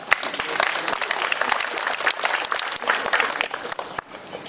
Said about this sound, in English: So let's give Barry Stanton a huge round of applause.